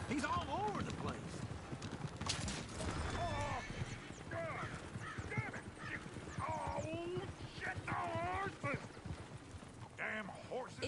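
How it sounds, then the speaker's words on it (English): Horses in the Red Dead Redemption 2 video game clip-clop and whinny repeatedly, hooves beating a busy rhythm with several neighs and squeals rising over game dialogue and talking voices throughout. "Damn horses!"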